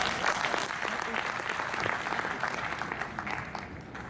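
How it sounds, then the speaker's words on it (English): Nurses and midwives clap for themselves at an International Day of the Midwife gathering, steady, fairly quiet crowd clapping that tapers slightly toward the end. "Clap for yourself"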